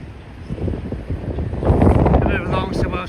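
Strong gusty wind buffets the microphone at a Blackpool demolition site, a loud rumbling roar that swells toward the end, with someone talking over it.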